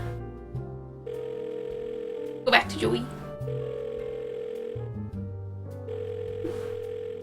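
Telephone tones from the point-and-click adventure game Blackwell Deception: a steady, electronic dial-tone-like hum that holds for several seconds, breaks briefly, then resumes, with a voice talking over the middle.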